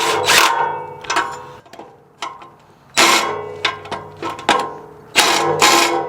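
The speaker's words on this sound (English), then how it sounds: "Go ahead and crack both these nuts loose." Wrench loosening exhaust nuts on a Nissan 350Z, heard as bursts of close ratcheting clicks in several separate pulls with short pauses between them.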